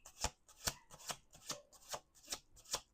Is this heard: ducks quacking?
no